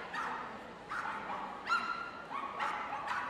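A Cocker Spaniel barks during a medium team agility final at Crufts, giving several short, bright yips spaced about half a second apart, moderately distant over a faint arena murmur.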